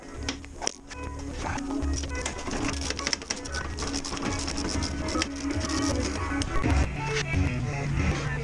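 Fender bolts come off a Jeep Wrangler with a ratchet, its clicking buzz running almost without a break, close-up in a workshop with other faint mechanical noise mixed in.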